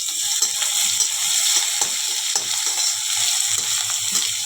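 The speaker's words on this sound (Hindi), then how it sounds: "तो प्याज को अच्छी तरह से भून लेंगे हम।" Onions fry in an iron kadhai with a steady, loud sizzle, broken by regular scraping stirs throughout.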